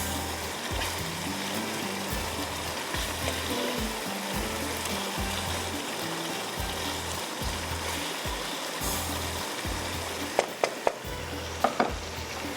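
Fish curry fries in a pan with a dense, continuous sizzle heard close up, steady and fairly loud throughout, with a few sharp clinks of a utensil near the end and no talking.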